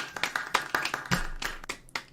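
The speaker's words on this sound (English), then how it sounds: "Can we get a clap for the new soundboard?" Soundboard clapping effect played during a podcast: a quick run of sharp, close handclaps in an irregular rhythm lasting about two seconds, fairly quiet and without talk.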